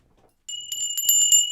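Small metal bells tinkle after a brief silence, a rapid run of bright high-pitched strikes with a sustained ringing tone, close and clear with no talking.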